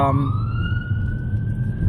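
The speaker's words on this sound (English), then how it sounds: "Police car." A police car siren wails steadily in the distance, its rising tone holding over a low rumbling background.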